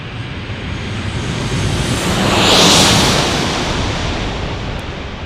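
Airliner, apparently an Alaska Airlines jet, roaring past on the single runway at San Diego, a broad steady jet rumble swelling to a peak midway and easing off, loud and close with no talk.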